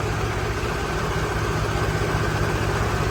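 A Swaraj 855 tractor engine runs at a steady, continuous low idle, close by and uninterrupted throughout, with no talking.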